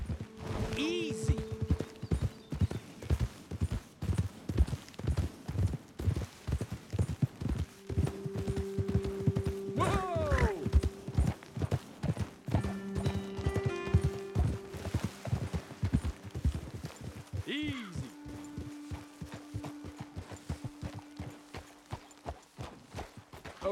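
Horses in the video game Red Dead Redemption 2 clip-clop at a steady, rhythmic trot across open ground, with a couple of whinnies and speech over the hooves.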